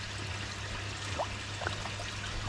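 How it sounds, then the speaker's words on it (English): Water drips and trickles from a koi pond filter plate filled with gold label media, a steady soft running flow with a few faint droplet plinks over a constant low hum. "the stuff that's dripping out is the stuff going over the top"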